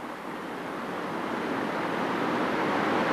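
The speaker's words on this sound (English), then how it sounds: "You can hear the water running." Steady broadband rushing of floodwater in Americus, Georgia, a continuous dense wash that swells slightly louder toward the end, with no voices.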